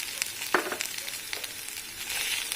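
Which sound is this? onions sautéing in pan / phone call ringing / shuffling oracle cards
onions sautéing in pan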